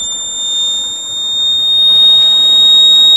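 A motorcycle overheat alarm buzzer sounds a piercing electronic tone continuously at a high pitch, loud and unbroken, over a faint background hum.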